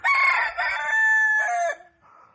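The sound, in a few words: rooster crowing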